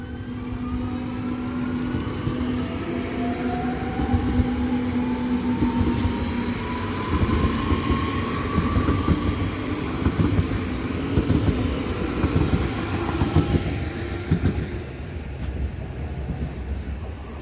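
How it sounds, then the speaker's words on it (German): An RS2 Regio S-Bahn train on the Bremen–Twistringen line pulls away from a station with a steady, loud rumble and a rising electric motor whine that builds over a long stretch, with no talking. "Jetzt fährt die RS2 los."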